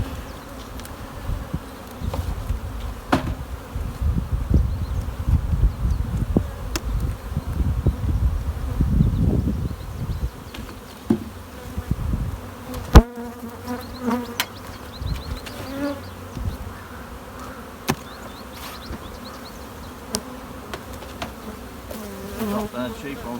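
Honey bees buzz thickly around open hive colonies while frames of brood are moved during splitting. A dense drone swells close by, with a few clunks and knocks of hive equipment.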